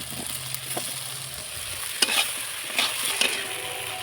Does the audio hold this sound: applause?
no